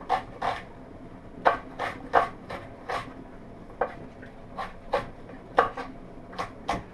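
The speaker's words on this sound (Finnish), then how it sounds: "Kamera kuvailemaan sieltä sitten sipulin pilkontaa" A knife chops an onion on a cutting board in a home kitchen, a dozen crisp, close knocks in an uneven, steady rhythm with short pauses, no voices over it.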